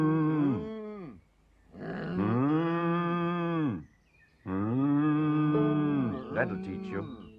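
A cow mooing three times, long, loud, drawn-out calls close by, separated by short pauses, the last one wavering and breaking up.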